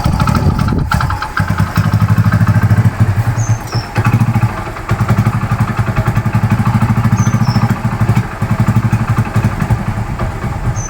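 A motorcycle engine with an idling fault runs steadily at idle with a low, throbbing chug, briefly dipping and picking back up a couple of times; no voices.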